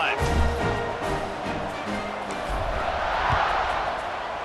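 A stadium crowd in EA Sports College Football 26 roars continuously, a broad, dense wash of cheering that swells louder toward the end, with some faint voices mixed in.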